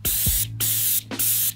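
Airless paint sprayer spraying paint while testing the spray pattern for painting gutters, loud close hissing bursts in three pulses separated by brief silences, no talking.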